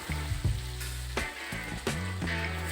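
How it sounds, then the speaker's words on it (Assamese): Chopped onions frying in oil with dried red chillies and bay leaf in a pan over a wood fire, a continuous sizzle broken by a few sharp clinks and scraping stirs, close and alone. "পিঁয়াজখিনি এতিয়া ভালদৰে মই ভাজি ল'ম"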